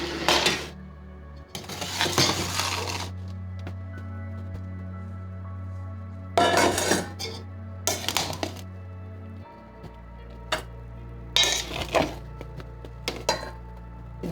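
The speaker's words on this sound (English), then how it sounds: "So we are transferring this to a different bowl now." Shrimp masala is moved from a pot into a bowl in short bursts of spoon scraping and clinking against metal, with quiet pauses between them over a steady low hum.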